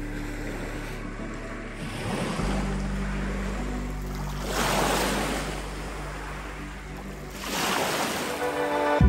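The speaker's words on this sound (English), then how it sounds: "The sound of the water and the waves is so comforting." Water lapping and waves washing onto the Lake Superior shore on a misty autumn day on the Keweenaw Peninsula, a continuous soft surf with gentle swells rising and falling, some wind, no talking.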